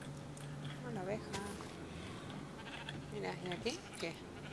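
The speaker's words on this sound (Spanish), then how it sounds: "Una oveja." Sheep bleating in Minecraft, two wavering bleats a few seconds apart over a low droning game background, moderately close, with someone talking in Spanish nearby.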